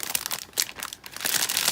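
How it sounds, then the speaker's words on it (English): Crinkling of packaging on planner note paper, a thick cardstock-like pad with dividers, heard as close, bright papery rustles in several short bursts with no voices. "I apologize for the crinkling"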